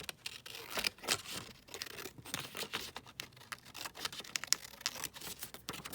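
Scissors cutting a leftover scrap of book page for a botanical collage, a quiet close run of short crisp snips and paper crinkles in an irregular rhythm, no talking.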